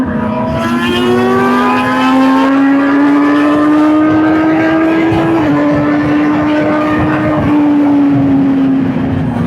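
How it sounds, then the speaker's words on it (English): A high-pitched MV Agusta naked motorcycle rated at 208 horsepower, ridden hard with a quick shifter: a loud, close, screaming engine note climbing steadily through the revs, with brief dips at quick gear changes. "The high pitch of the MV is insane."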